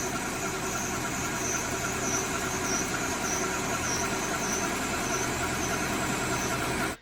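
A lathe turns a homemade key for a Daiwa MonoCoque fishing reel at slightly higher speed, giving a steady whirring machine drone with a faint high tonal whine, constant throughout before cutting off at the end.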